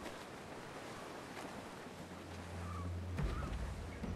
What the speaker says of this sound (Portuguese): O vento está forte agora.